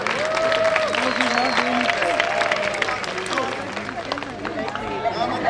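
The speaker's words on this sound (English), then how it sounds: "Ladies and gentlemen, a big round of applause." A crowd at a betting event gives a round of applause for a woman, dense clapping and cheering under an announcer's voice, fading slightly midway then swelling again.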